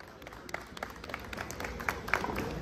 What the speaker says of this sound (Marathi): एकदा जोरदार टाळ्या होऊन जाऊ देत.